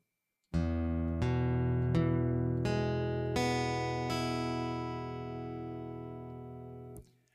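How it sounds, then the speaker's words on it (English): Guitar strings are plucked one at a time in a slow, even sequence, each note ringing over the last before all are damped together. "figure out which finger is muting the surrounding strings by slowly picking each string."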